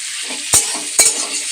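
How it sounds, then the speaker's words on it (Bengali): Potatoes with turmeric and chilies sautéing in a pan, a steady close sizzle with two sharp scrapes of a spatula against the metal. "আলুগুলো দিয়ে ভালো করে কষিয়ে নিচ্ছি"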